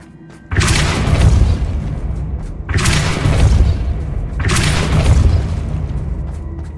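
Depulso force spell cast in the video game Hogwarts Legacy, three loud booming blasts about two seconds apart, each a heavy thump followed by a rumbling decay.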